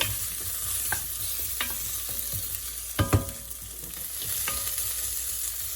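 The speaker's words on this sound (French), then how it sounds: "Et je mélange l'ensemble un petit peu, histoire que ça dore bien." Grated ginger frying in a pan, stirred now and then, with a steady close sizzle broken by a few sharp scrapes and clacks of the utensil, one louder cluster near the middle.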